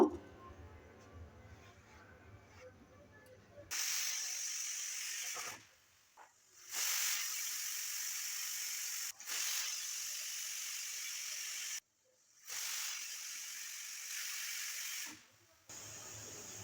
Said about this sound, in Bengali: কুকারটাকে বসিয়ে দিচ্ছি চার থেকে পাঁচবার সিটি মেরে নেব